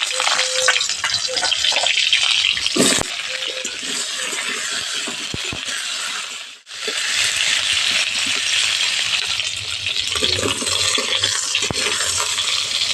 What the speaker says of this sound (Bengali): মধ্যে পটলগুলো ভেজে নেব।